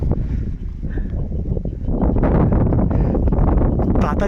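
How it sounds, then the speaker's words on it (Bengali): Wind gusts across a hilltop in the hills near Nainital, by the Chhota Kailash temple. A steady, close, broadband rush buffets the microphone and grows louder after about two seconds. "হাওয়া চলছে দেখেছো?"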